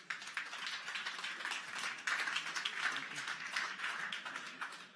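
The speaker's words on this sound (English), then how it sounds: "Give him an applause." A meetup audience applauds, a sustained crackle of many hands clapping together at moderate distance, steady for the whole stretch before tapering at the end.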